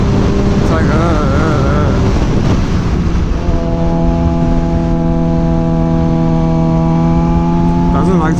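A Suzuki GSX-R 600 sport motorcycle revs loud and close, its engine note climbing and wavering before settling into a sustained high-RPM drone.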